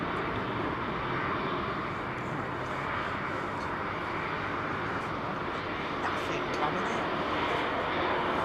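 A KLM Boeing 737 airliner rolling on a runway at London Heathrow, a steady distant engine roar, fairly faint and unchanging throughout.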